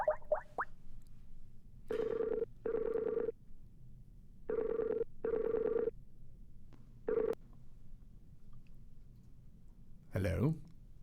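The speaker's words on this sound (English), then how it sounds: "let's call him up on the phone" A phone call being placed for a radio show interview: an outgoing ringback tone sounds in several evenly spaced bursts of two, clear and steady, after brief dial clicks, with a faint voice at the end.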